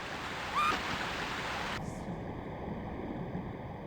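Continuous hiss of rushing water in Tomb Raider II, even and unbroken, with a brief faint chirp early on and the highs dropping away midway.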